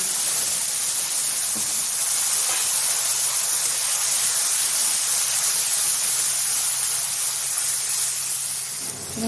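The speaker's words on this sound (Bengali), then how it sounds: "একটু জিরা ফোড়ন দিচ্ছি" Cumin seeds spit and sizzle steadily in hot oil during tempering for a Bengali-style matar paneer or aloo dum, a dense continuous hiss with faint crackles holding at an even, close level throughout.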